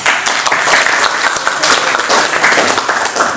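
An audience applauding a speaker introduced at an ecology conference in Mexico, loud, full clapping from many hands that holds steady and continuous for the whole stretch, with no speech over it.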